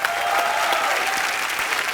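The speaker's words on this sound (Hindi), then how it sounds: "दोनों के लिए जोरदार तालियां" A studio audience at a comedy talk show breaks into loud, dense applause that sustains evenly throughout, with faint crowd noise mixed in.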